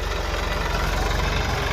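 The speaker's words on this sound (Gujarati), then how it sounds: "એ ટ્રેક્ટર ચલાવી રહ્યા છે" A tractor engine idles with a steady low, throbbing rumble, loud and close, during ploughing, and no one talks over it.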